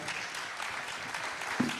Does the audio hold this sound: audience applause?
yes